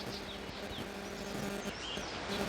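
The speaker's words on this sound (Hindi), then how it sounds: "चिड़ियों का चहचहाना" Birds chirping along the Yamuna river valley in the Yamunotri mountains of Uttarakhand: faint, scattered short calls over a steady outdoor wash of flowing water and ambient noise, with no voices.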